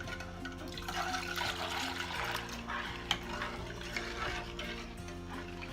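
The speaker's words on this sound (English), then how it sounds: "We're going to stir in our other 2 cups of water." Water pours and splashes steadily into a pot, with a continuous watery rush and a low background hum throughout.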